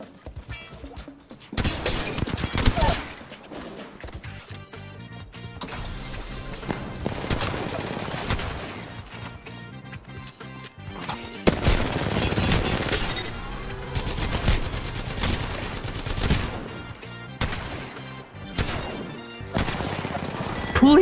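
Rapid shotgun blasts from the Mastiff in a first-person shooter game, loud bursts of gunfire in quick succession under a dense, chaotic mix of game effects.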